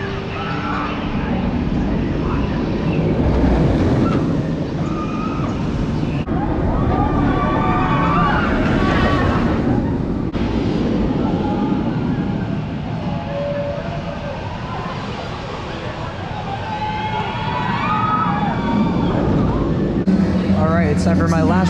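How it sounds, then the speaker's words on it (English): Batman Gotham City Escape roller coaster at Parque Warner in Madrid, Spain: a constant loud rushing roar of wind and track rumble through the whole ride, swelling and easing with the coaster's motion, with voices faintly audible beneath. "It's time for my last ride on Batman Gotham City Escape."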